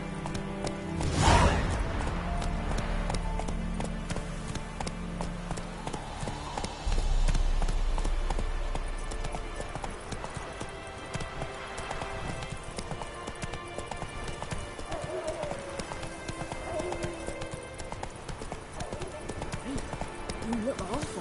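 Steady hoofbeats from Roach, a horse in a video game, clip-clop through a dense layer of game music and effects, with a loud impact early on and people talking over the top.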